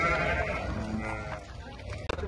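Lambs bleat amid the bustle of the Sokuluk livestock market, a steady crowd of animal calls close by, with one sharp louder cry near the end.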